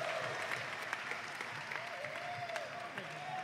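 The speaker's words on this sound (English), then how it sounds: "Give them a round of applause." Audience applause at a Super Smash Bros. Melee tournament finalist presentation, a steady wash of clapping from a crowd that runs evenly throughout, with a faint voice on a loudspeaker in the background.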